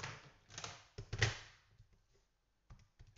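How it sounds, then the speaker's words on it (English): Fingers tap out a quick run of calculator keys, a cluster of soft clicks and thunks followed by a short pause and a few more presses, close and quiet. "Type it into the calculator"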